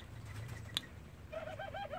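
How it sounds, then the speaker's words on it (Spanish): Cuban doves coo softly in an aviary, a single sharp click cutting in briefly before a gentle, repeated cooing phrase rises near the end. "Tengo tres tórtolas habaneras sacadas."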